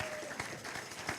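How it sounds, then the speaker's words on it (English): A crowd claps in a dense, steady wash of applause, heard from within the room. "Let's give all of them a round of applause to welcome them"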